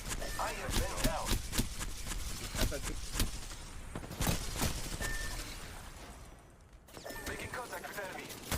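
Rapid gunfire in a military shooter game, repeated sharp shots and bursts through most of the stretch with a brief lull, mixed with game voice chatter.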